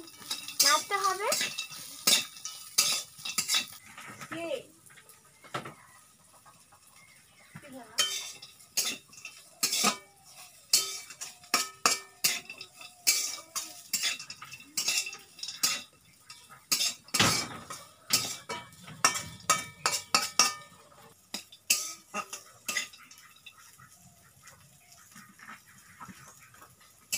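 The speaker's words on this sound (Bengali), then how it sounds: "এবার দিয়ে দেব ভেজে রাখা চীনা বাদাম, 2-3 সেকেন্ডের মতো নাড়তে হবে।" Fried peanuts stirred in a pan while cooking singara filling in a home kitchen, heard as repeated metallic scraping and clinking of a utensil against the pan in irregular bursts, close and fairly clear with no talk.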